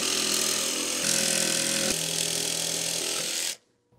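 A router with an upcut bit whines loudly and steadily as it cuts through a wooden van wall panel, running for several seconds before cutting off abruptly, leaving near silence.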